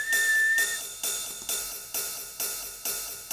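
A high, bright percussion sound struck in a steady rhythm, about seven evenly spaced hits with sharp attacks and quick decays, a piercing whistling ring sustained over the first strikes; close and clear, no talk.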